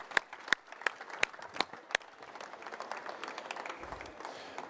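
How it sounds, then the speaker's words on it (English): An audience gives a round of applause: a few sharp separate claps at first, then a continuous faint patter of many hands heard at a distance. "I would firstly like to us all to give a big round of applause to Nick, to Will, to Alisson and to Tom."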